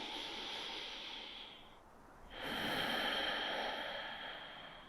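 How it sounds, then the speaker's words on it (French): A slow deep breath during a morning yoga session: a soft hissing inhale or exhale, a short pause, then a louder airy breath, close and quiet, with no talking. "Prenez ici une dernière respiration."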